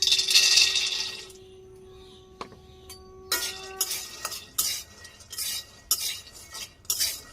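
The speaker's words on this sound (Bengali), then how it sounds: "কাঁচা বাদাম নিয়েছি, আমি একটু ভাজি করব। কড়াই গরম হয়ে গেছে, হালকা আছে ভাজি করে নিই।" Raw shelled peanuts stirred in a hot wok in a Bangladeshi village kitchen, a steady hiss at first, then a run of scraping, rattling stirs with short pauses between them.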